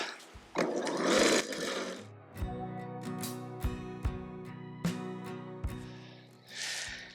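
A lawn scarifier runs with its blades lifted while being pulled back across a spring lawn, giving a steady whining motor hum broken by loud rattling, scraping bursts near the start and a few sharp knocks.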